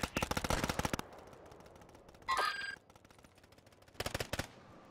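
Call of Duty Warzone gunfire rattles in two rapid automatic bursts, one at the start and another near the end, separated by a brief electronic chirp and quiet.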